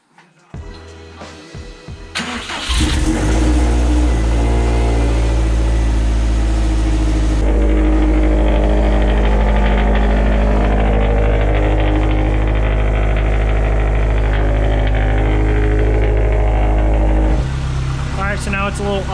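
A Subaru STI engine, newly fitted with a header, cranks briefly, then fires up and settles into a loud, rumbling idle close by, with the pitch shifting once partway through.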